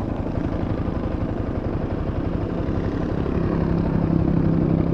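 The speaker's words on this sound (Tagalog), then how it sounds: "Ito ang tunog ng motor ko." A Yamaha Sniper 155R motorcycle idles after a tune-up with throttle body and fuel-injection cleaning, a steady close, even engine putter that thickens slightly toward the end, heard alone without talk.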